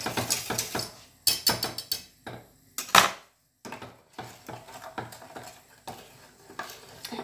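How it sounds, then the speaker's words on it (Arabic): Wooden spoon repeatedly stirring a flan cake milk mixture in a pot over heat, giving a series of close, scraping knocks in irregular bursts with brief pauses, no voices. "ولكن البنات من الاحسن نخلطو بشي معلقه هكا ديال العود"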